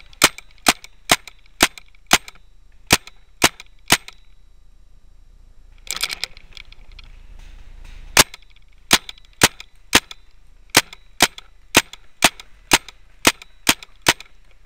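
Paintball markers fire during an outdoor woodland paintball game: a rapid, steady run of sharp popping shots, then a brief pause with rustling and a burst of shots, then another long regular string of loud pops.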